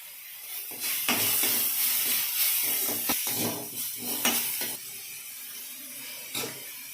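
Chopped onions sizzle in hot oil in a pan for Chettinad kara kuzhi paniyaram, a soft continuous hiss broken by occasional sharper crackles and stirring clinks.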